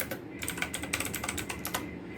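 Typing on a computer keyboard while entering commands, a quick, steady run of close, crisp key clicks.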